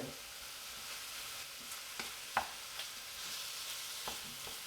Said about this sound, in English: the bigger the meat chunks, the more you have to fry it